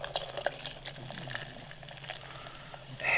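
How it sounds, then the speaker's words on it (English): Liquid ingredients poured into a container, a continuous wet trickling and splashing stream with small drips, close and fairly quiet, with no talking. "You can hear how much I'm pouring"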